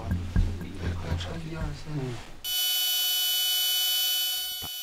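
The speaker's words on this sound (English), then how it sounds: "Suddenly, the electrical circuit's alarm goes off." An electrical circuit alarm on a floating airship sounds abruptly after a stretch of talk, a loud steady high-pitched electronic buzzing tone that holds unbroken for several seconds.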